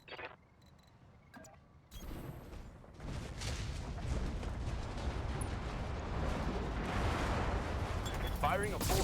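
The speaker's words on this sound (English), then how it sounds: "Firing a full salvo." A mech in BattleTech unleashing a full weapons salvo, a sudden loud onset of booming, crackling fire that builds into a sustained roar for several seconds after a quieter start.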